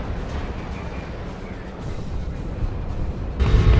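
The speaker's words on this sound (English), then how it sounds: "Hearing some kind of explosions going on." Dawn of War 2 battle between Chaos Space Marines and Orks: a continuous rumbling wash of distant explosions and artillery-like booms, steady and loud, swelling heavier near the end.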